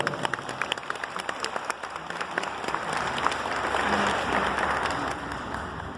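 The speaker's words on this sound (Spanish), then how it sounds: "Que pido un aplauso para él, por favor." An audience at a conference on femicide breaks into applause, scattered claps at first that thicken into a sustained round of clapping.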